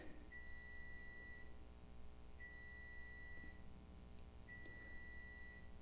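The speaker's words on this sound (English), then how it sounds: "I will go turn off the beeper." Beeper going off in a watercolor painting session, three evenly spaced bursts of high electronic beeping, each lasting about a second, fairly faint over quiet room noise.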